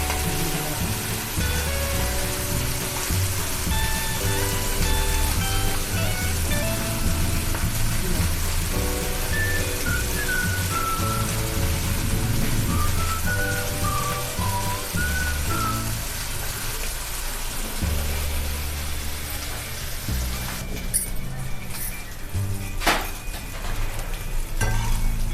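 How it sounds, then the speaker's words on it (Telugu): Chicken slices fry in a pan over a medium flame, a continuous close sizzle with occasional stirring clatter, while music plays throughout. "మీడియం ఫ్లేమ్లో పెట్టుకొని ఫ్రై చేసుకోవాలి"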